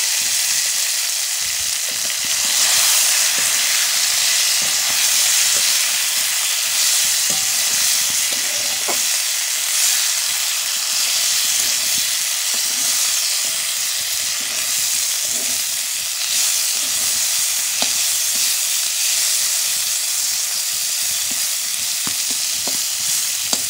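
Boiled Malabar spinach fries in a hot pan with a steady, loud, continuous sizzle and occasional stirring scrapes throughout, no voices.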